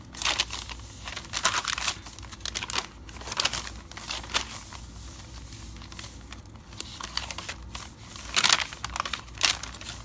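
Pink paper crinkles and rustles while mail is unboxed, a continuous close-up crumpling with brief louder crackles and tearing-like swells, no voices.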